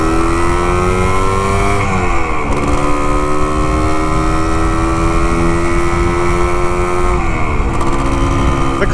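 A vintage Can-Am 250 TNT motorcycle roars loudly as it accelerates on a test ride, its engine note climbing steadily, dipping at two gear changes, one of them fumbled, then rising again under constant wind noise.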